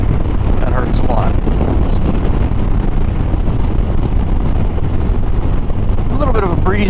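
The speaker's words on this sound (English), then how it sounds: "A little bit of a breeze today, just a light breeze." Strong wind roars across the microphone on a Harley-Davidson Sportster motorcycle ride, a loud constant buffeting rumble throughout with faint engine tones and brief voice-like traces rising near the start and end.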